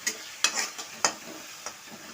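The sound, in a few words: stirring food frying in pan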